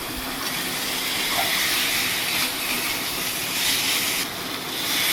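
Pointed gourds are tipped into hot mustard-oil masala and fry with a loud, dense sizzling hiss that swells and falls over a few seconds.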